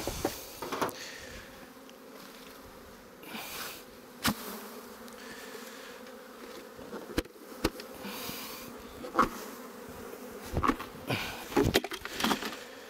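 Honeybees buzz around an opened beehive, a continuous droning hum broken by scattered knocks and handling clatter of hive parts nearby.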